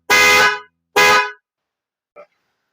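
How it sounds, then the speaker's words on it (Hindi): Minda car horn sounded in two loud, close blasts of about half a second each, followed by a very short faint chirp, with a bright, harmonic tone and no talking. "अब आपको बजा के दिखाते हैं मिंडा का"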